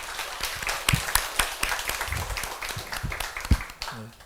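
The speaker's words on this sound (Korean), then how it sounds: "우리 서로에게 또 하나님 앞에 감사의 박수를 드립시다" A church congregation claps in thanks during a service, scattered sharp claps spread unevenly through the clip rather than a dense ovation, with some voices mixed in.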